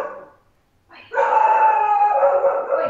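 Dogs inside a home howl and bark at the mailman, a loud sustained chorus of wavering howls that starts abruptly after a brief quiet and carries on to the end.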